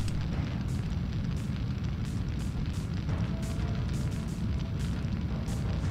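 Steady roaring crackle of fire burning through a maze in the Syphon Filter video game, a dense continuous rumble with scattered pops, loud and unbroken throughout.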